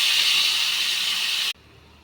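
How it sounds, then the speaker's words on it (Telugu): Small dried fish (nethallu) frying in hot oil give off a steady, loud, hissing sizzle that runs unbroken and then cuts off abruptly, with no voices. "ఇప్పుడు చూడండి, నెత్తలు కూడా కొద్దిగా ఫ్రై చేసుకుందాం"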